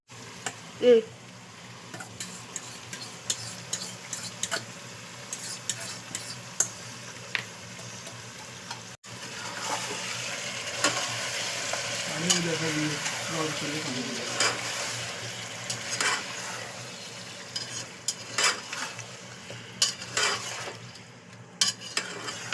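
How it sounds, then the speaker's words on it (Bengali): Sour yogurt heats in a pot and is stirred, giving a steady low sizzle and bubbling with occasional scraping and clinks of the spoon throughout. "আমরা একটা দইকে এখানে ফুটিয়ে নিচ্ছি"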